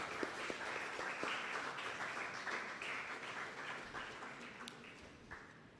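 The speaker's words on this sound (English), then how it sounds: "Shall we all welcome her with an applause?" An audience at a student-faculty seminar at a theological college applauds to welcome a speaker, with steady, dense clapping across the whole stretch that thins slightly toward the end.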